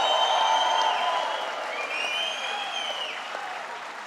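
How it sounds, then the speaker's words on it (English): Steady applause from a large crowd at a governor's public announcement event, a continuous wash of clapping with a few faint cheers and whistles over it. "let's give them a round of applause"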